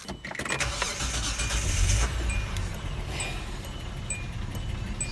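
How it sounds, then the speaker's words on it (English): A car engine cranks and catches, then settles into a steady idle close by, a low rumble that continues evenly without any talk. "I will start the car."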